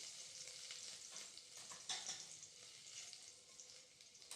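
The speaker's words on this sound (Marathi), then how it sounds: "यामध्ये ठेचलेला लसूण टाकायचा," Crushed garlic fries in a generous amount of hot oil for a Vidarbha-style onion zunka, a steady close sizzle with a brief stirring flare partway through.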